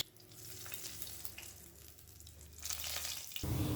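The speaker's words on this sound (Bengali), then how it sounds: "30 থেকে 40 সেকেন্ড হাই ফ্লেমে রাঁধুনি আর শুকনো লঙ্কাটা ভেজে নেব।" Dried red chillies and radhuni seeds frying in hot oil over high flame, a soft, continuous close sizzle with faint crackle and a few stirring scrapes, no voices.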